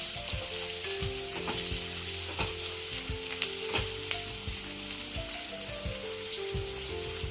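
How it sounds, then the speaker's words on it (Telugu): Onions frying in a pan for a Telugu tamarind chutney, a loud steady sizzle with crackling oil pops and occasional stirring scrapes, close up with no speech. "బాగా వేగాలండి ఉల్లిపాయలు."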